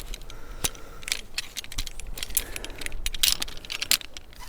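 Metal carabiners and a quickdraw clink and rattle in a string of small, sharp, close metallic taps as a clove hitch is undone on a climbing rope setup.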